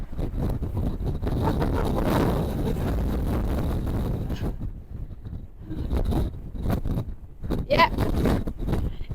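Strong storm wind from Storm Debbie batters an outdoor microphone on an exposed hilltop, a loud continuous roaring buffet that eases briefly midway before gusting hard again, with a person speaking under it.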